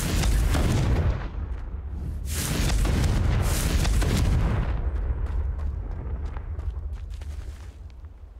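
A Confringo spell explodes in the Hogwarts Legacy video game with a loud deep boom, followed by a second rumbling blast and a long crackling, debris-filled decay.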